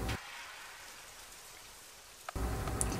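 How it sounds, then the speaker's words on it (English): Rain falls with a soft, steady patter and hiss, broken by brief louder bursts of noise at the start and near the end. "watching the rain fall from the sky"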